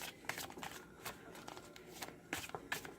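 Tarot cards from a new Arcanum Tarot deck riffle and flick in a few quick bursts, soft and close, with faint handling noise between them.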